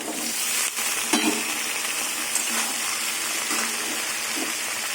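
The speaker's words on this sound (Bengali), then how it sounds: "এবার কচুর লতি আর আলু ভেজে নেব" Taro stolons and potatoes fry in a pan with a steady, dense sizzle, broken by a few soft scraping stirs near the start and again toward the end.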